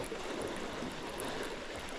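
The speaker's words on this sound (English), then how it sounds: "Boy, these waves are rocking." Waves washing against a bank after a hurricane, a steady close rush of churning water with wind, no voices.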